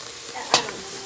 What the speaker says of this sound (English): I've let the onions and mushrooms sweat and get nice and tender